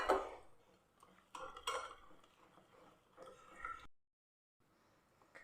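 A spoon clinks and scrapes in a bowl while stirring smooth, lump-free rice flour batter. The irregular taps come close and fairly faint, and a short silence breaks them near the end.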